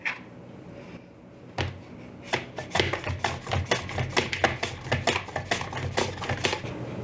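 Russet potatoes are thinly sliced on a slicer with a rapid train of crisp, close clicks and taps in a quick, uneven rhythm after a quiet opening second and a half.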